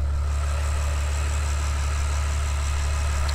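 A 2020 Ferrari 812 Superfast's front-mounted 6.5 liter V12 idles steadily, a loud, deep, continuous rumble with a smooth even drone throughout and no voices.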